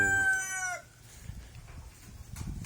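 A rooster crows briefly from a breeding flock of BPR and Rhode Island crossbreed chickens. The crow ends about a second in, followed by quieter clucking and farmyard shuffling.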